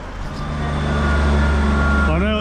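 A train idles loudly at a station platform in Carnforth with a steady low rumble and engine hum, then a rising mechanical whine near the end; voices murmur faintly beneath.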